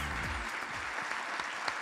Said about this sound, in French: Vous applaudissez Madame GS et Charlotte Danty qui vont me rejoindre